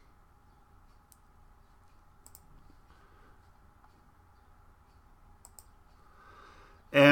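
A computer mouse clicked a few times, faint, sharp and spaced apart in a quiet room, with a louder burst of noise right at the end.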